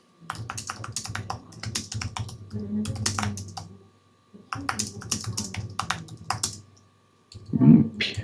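Fingers type on a computer keyboard in quick, close clicking runs, pausing briefly between bursts, with a low voice murmuring faintly underneath.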